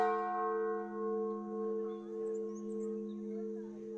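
A church bell rings with a sustained, resonant hum that holds steady and pulses gently as it slowly fades, heard alone with no voices.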